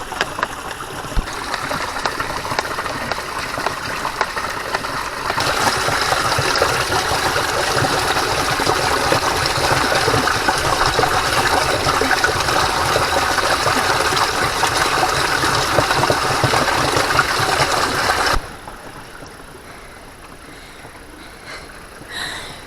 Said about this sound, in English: My first time getting water from a spring.